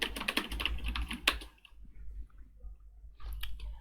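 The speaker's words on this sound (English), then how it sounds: "So here I'll just type you are looking beautiful today, enter." Typing on a computer keyboard while entering a message for a coding project, a quick burst of clustered key clicks that stops, then a few more keystrokes after a pause.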